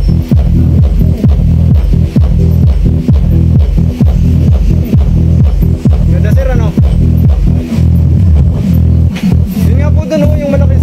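A Master Bass sound system under test pumps out loud, fast, evenly spaced bass throbs that repeat nonstop, with a few brief voices and chatter near the end.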